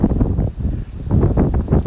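Wind gusts through winter woods, a low rumbling buffet against the microphone that surges and eases in uneven waves, loud and close throughout.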